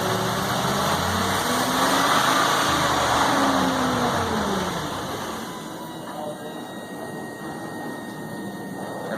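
A vehicle engine fitted with a 4L80E transmission revs hard with a rising and falling whine, then drops back toward a lower, steadier rumble as it is shut off; a voice talks over it.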